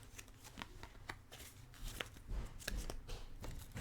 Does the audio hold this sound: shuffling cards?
yes